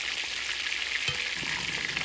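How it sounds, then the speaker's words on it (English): Chicken cutlets frying in hot oil, a steady close sizzle and crackle throughout with a few brief pops and stirring sounds, no talking. "Now these will just take a couple minutes on each side or until they're nicely golden brown."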